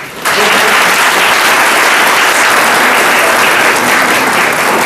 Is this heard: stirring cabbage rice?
no